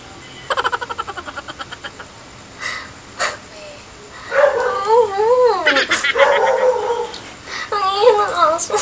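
A dog whines in high, wavering, drawn-out cries, mixed with rapid panting and a few short yips, close by and fairly loud.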